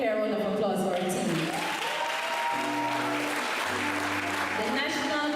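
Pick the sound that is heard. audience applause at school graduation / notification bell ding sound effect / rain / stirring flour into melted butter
audience applause at school graduation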